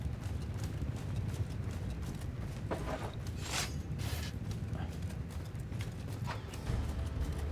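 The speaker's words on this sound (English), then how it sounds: "Here comes the horse." Cavalry horses in the medieval battle game Mount & Blade II Bannerlord thunder past, with dense galloping hooves, rattling gear and a couple of sharp whinnies rising over the rumble of battle.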